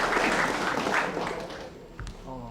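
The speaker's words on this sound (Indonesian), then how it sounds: "Boleh tepuk tangan dulu?" Audience applause at a polytechnic campus event in Palembang, a burst of many people clapping that fades over two seconds, followed by a brief thump and a voice.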